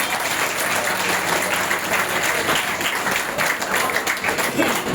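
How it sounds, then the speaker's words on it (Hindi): Steady, dense applause from a crowd, loud and continuous throughout with no pauses. "एक जोरदार ताली इनके लिए बजती है"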